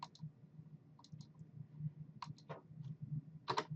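Computer mouse clicks while using a snipping tool, a handful of quiet, sharp clicks in small clusters over a low background hum, faint and close with no speech.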